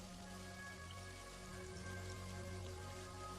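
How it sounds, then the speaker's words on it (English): Light rain falling all around, a soft, steady, faint patter of many small drops with no voices and no change in intensity. "Think of the millions and millions of raindrops that are beginning to fall all around you."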